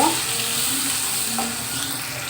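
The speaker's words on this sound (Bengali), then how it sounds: "এখন তেলের ভিতর আমি কিছু পেঁয়াজ কেটে রেখেছিলাম পেঁয়াজটা ঢেলে দিচ্ছি" Chopped onion fries in hot oil with a steady, loud, close sizzle that holds evenly throughout, with no speech over it.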